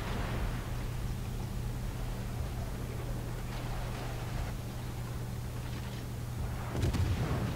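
Warship guns boom in the World of Warships game over a steady low engine hum, with a burst of firing near the end.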